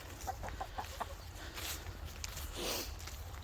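Jersey Giant chickens cluck softly inside their coop on a winter farmstead, with a short string of low clucks and rustling footsteps in bedding, all faint and fairly close.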